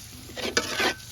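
A spatula stirs spice masala of onion paste, turmeric and chili powder frying in a pan, one short scraping swish with a sizzle beneath, close and alone.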